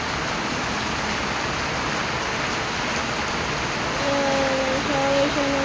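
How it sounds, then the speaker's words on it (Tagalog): Heavy rain pours in a steady, dense hiss for several seconds, with a faint tonal hum rising near the end. "Sobrang lakas ng ulan dito guys"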